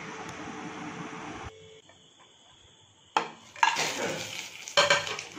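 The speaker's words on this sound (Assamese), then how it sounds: "লং আৰু ইলাইচি তেলত ভাজি দিলো।" Whole spices, bay leaves, cinnamon, cloves and cardamom, hit hot oil in a kadai for a mutton curry, with a sudden loud sizzle after a quiet pause, then crackling and stirring bursts.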